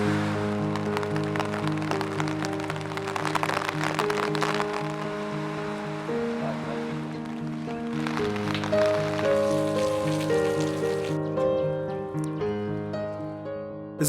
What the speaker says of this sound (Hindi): कुल्लू में पिछले कई दिनों से हो रही लगातार बारिश के कारण मौसम ने करवट बदली है।